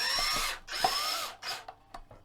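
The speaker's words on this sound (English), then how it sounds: "Especially if you're using a powerful drill like this" A powerful power drill drives screws into a Stratocaster guitar in a few short bursts, each a rising motor whir that stops abruptly, followed by small clicks and taps; close and fairly loud, no talking.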